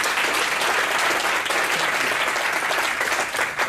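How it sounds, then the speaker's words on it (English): An event audience gives a round of applause for a guest, Nannette Ripmeester: dense, steady clapping from many hands fills the room at full strength throughout, with no talking over it. "A round of applause for Nannette Ripmeester."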